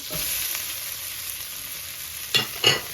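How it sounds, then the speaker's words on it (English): Garlic and onion frying in butter in a pan with Swiss chard, a soft steady sizzle with two sharper clatters of stirring near the end. "Throw in the garlic and the onion and let it roll."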